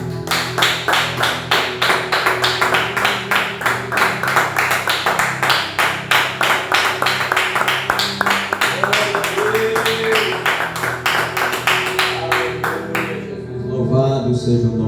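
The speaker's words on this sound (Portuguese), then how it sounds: "Vamos dar uma salva de palmas para o nosso Senhor Jesus Cristo." A church congregation claps together in steady rhythmic applause for about thirteen seconds, with a sustained musical tone beneath it. The clapping stops near the end, where voices are heard.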